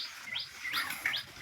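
Sparrows chirping near a small house in the morning, three or four quick rising tweets, fairly close and clear, with no talking.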